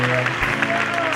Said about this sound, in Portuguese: Um aplauso a Cristo Jesus